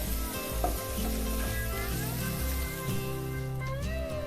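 Onions frying in a pan with green chilli and asafoetida give a steady, close sizzle, with light stirring throughout and no voices.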